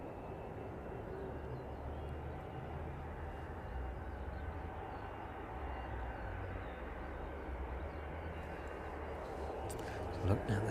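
Maersk airliner descending to land at East Midlands Airport after a flight from Belfast, a steady broad low roar of jet engine noise holding evenly throughout, with a brief louder rumble near the end.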